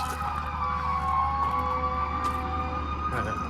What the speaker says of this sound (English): I believe that's a fire truck.